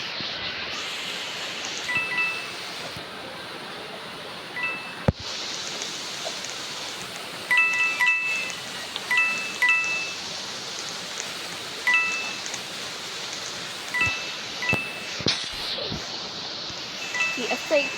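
Steady rain falls throughout, a continuous hiss with scattered patters, while a game's chimes and effects and occasional talk sit over it.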